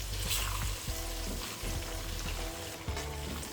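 Chicken fries in a hot pan, sizzling and crackling steadily, with a few scraping knocks as pieces are turned. No one speaks.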